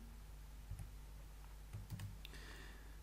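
Quick clicking keystrokes on a computer keyboard, a few scattered taps, then a short burst of typing, close and quiet with no voices.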